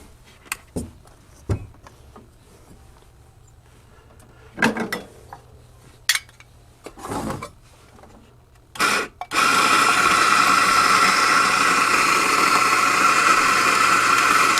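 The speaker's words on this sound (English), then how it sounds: "Go ahead and put them in our grinder." Eureka Specialita electric coffee grinder with a single-dose hopper grinding freshly weighed beans for Cuban coffee, a loud steady whir starting partway through and running to the end after scattered kitchen clinks and taps.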